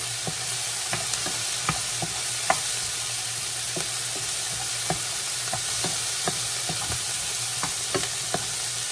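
Pork belly with eggplant and tomato sizzles steadily in a pan while a utensil stirs and scrapes in frequent light taps, close and continuous with no talking.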